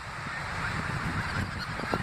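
Geese honk repeatedly and close by, a chaotic jumble of overlapping calls over a steady outdoor rumble, with no talking.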